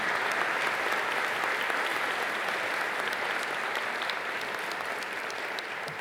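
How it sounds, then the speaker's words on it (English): A university convocation audience applauds a speaker in a sustained, dense round of clapping that holds steady throughout and eases slightly toward the end. "Please give our speaker a very warm welcome of applause."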